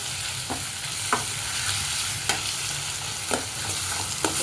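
A cut tomato fries for a roasted-chickpea sambar, with a continuous sizzle close by and rhythmic clicks of a spoon stirring the pan every second or so.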